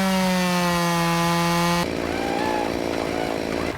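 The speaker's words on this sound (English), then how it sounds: "I can feel it starting to pinch the chainsaw, so I don't want to get it jammed in there" A chainsaw cuts into a tree trunk as the cut begins to pinch the bar, a loud, close, steady high whine that drops into a rougher, lower chugging labor partway through, with no speech.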